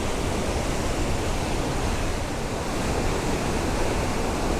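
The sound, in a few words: powerful waterfall at Tokul Creek, Washington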